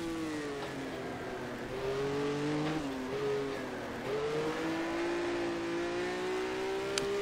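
Simulated race car engine in rFactor 1 on the Targa Florio road circuit, a steady droning whine that climbs and dips through gear changes and throttle lifts, loud and continuous with no talk.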